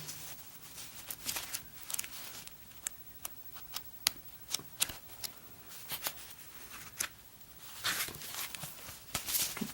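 Sheets of paper from a mail package are flipped through by hand, giving crisp, irregular rustles and sharp snapping flicks close to the listener, with no voices.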